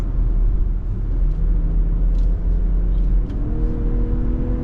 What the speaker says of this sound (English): It gets up to speed very, very quickly.